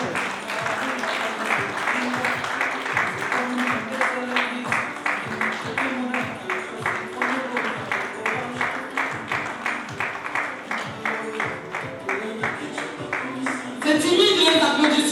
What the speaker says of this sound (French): C'est timide les applaudissements là, c'est sûr.